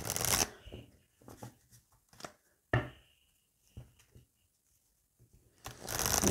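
Tarot cards riffle-shuffled and cut by hand, with loud bursts of shuffling at the start and end and scattered soft taps and slides of the deck in a quiet middle stretch.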